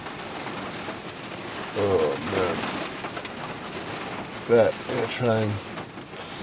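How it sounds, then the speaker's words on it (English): Severe rain from a winter storm drums steadily on a VW T4 camper van in the UK, a dense, constant hiss that continues while someone speaks briefly over it. "And now we've got the severe rain."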